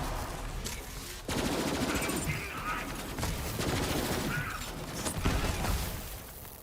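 Rapid gunfire from Borderlands 3 crackles steadily and loudly throughout, with dense overlapping bursts and mechanical clatter and no pauses.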